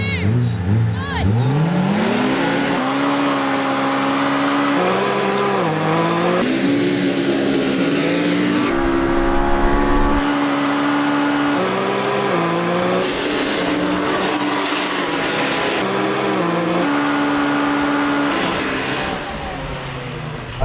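Can-Am and Polaris side-by-sides launch off the line in a head-to-head race, engines screaming up through rising revs with gear shifts and tire noise, loud and close, while people talk over the roar.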